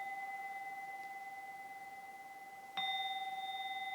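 A bell rings with a sustained, pure ringing tone during a Buddhist dharma talk; a fresh strike near the end renews the clear, steady resonance, heard alone without speech.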